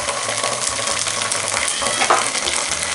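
Onion browned with ginger paste frying in a pan for bhindi masala, producing a loud, dense, continuous sizzle close up with stirring scrapes and a low rhythmic hum underneath, with no voices.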